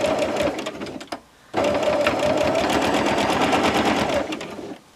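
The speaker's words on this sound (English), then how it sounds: "and stitch this down" A sewing machine stitches down a quilt binding, its rapid needle chatter running steadily, breaking off briefly near the start, then running on loud and close before stopping at the end.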